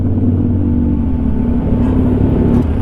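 Big bike motorcycle riding through traffic on a Manila to Baguio and La Union tour ride, with a steady, loud engine rumble and road noise filling the whole stretch, close and continuous without talk.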